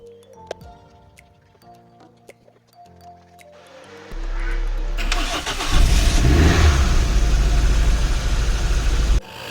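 A BMW car with a battery too weak to start it is jump-started with a hoco QS2 jump starter: after a few faint clicks the engine cranks, catches and settles into a loud, steady idle close by.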